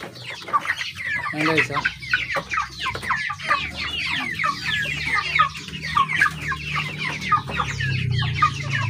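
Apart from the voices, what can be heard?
native chickens clucking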